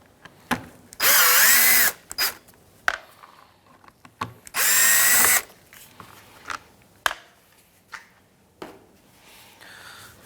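A power drill backs Phillips screws out of a 2003-2011 Honda Element grille in two short loud whirring bursts, separated by clicks, taps and handling noises.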